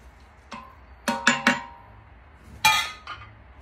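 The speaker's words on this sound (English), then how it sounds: "Stirring it." Arroz caldo porridge with fish sauce stirred in a pot, a spoon knocking and scraping against the metal in a few sharp clanks, a quick cluster in the middle and another later, with quiet gaps between.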